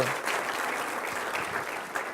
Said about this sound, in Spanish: Démosle un aplauso al Cordero